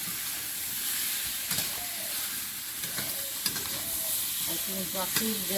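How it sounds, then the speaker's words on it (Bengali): Large potato pieces fry in hot oil in a pan and are turned over, producing a steady close sizzle with occasional scraping stirs and clinks, and no voices. "আলুটা এইভাবে ভালো করে ভাজতে হবে"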